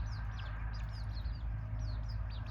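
Village-kept decoy chickens cluck repeatedly nearby in short, rhythmic calls over a low outdoor rumble.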